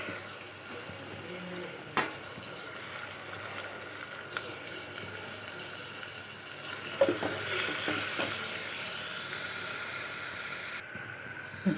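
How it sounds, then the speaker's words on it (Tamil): Thinly sliced tomatoes and curry leaves sautéing in a pan for mutton pepper thokku, a steady low sizzle with occasional spatula clicks and scrapes, close and continuous. "அதையும் போட்டுட்டு ஒரு 2 கருவேப்பிலையோடு சேர்த்து அதையும் வதக்கணும்."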